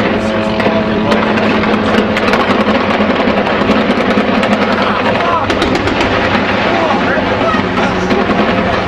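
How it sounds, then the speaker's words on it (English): Gunfire aimed at helicopters in Iraq crackles as many rapid, sharp reports within a loud, dense wash of engine and rotor noise, sustained without a break. "Here's some of the gunshots."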